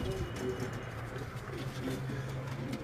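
Faint, soft coos from a racing pigeon in a loft in Quetta, repeating a few times over a low, steady background hum.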